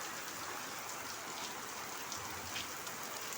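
Morning rain keeps falling steadily by a house and veranda, an unbroken close hiss with faint scattered drop impacts and a low rumble underneath, without any speech.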